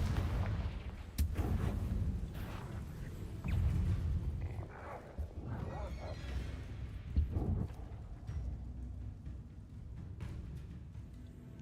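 Confringo blasting spells bursting during Hogwarts Legacy gameplay, a string of booming explosions with sharp cracks and rumbling tails spread over several seconds, mixed with game background noise.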